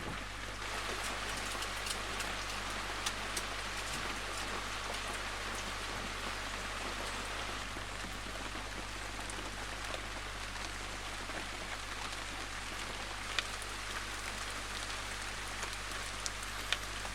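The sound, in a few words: prolonged rain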